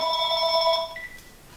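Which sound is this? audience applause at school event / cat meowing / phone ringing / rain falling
phone ringing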